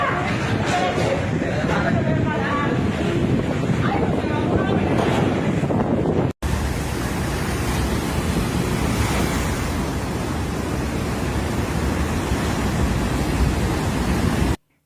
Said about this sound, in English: a video on Facebook that captures the fury of the raging sea, with waves already hitting the seawall